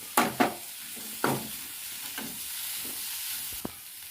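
White punarnava leaves being stirred and fried with chili powder in a pan, a few distinct scraping stirs over a soft, steady sizzle, close and alone without talk.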